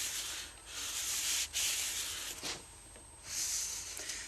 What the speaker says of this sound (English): When the wax is still warm, you can take a cork and distribute it better over the base.